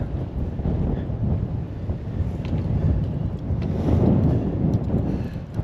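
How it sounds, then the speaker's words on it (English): Strong, blustery wind roars across the microphone on an off-road track through the woods, a loud low rumble that swells and eases in gusts throughout. "because of the wind in this area. You can feel it pushing us back."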